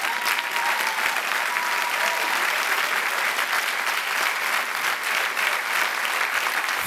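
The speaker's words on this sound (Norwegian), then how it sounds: "Så fint om dere bare kan klappe litt til nå mens jeg reser på" An audience in a Norwegian comedy show applauds on request, a broad, continuous roar of clapping that holds steady and fairly loud from start to finish, with faint crowd noise mixed in.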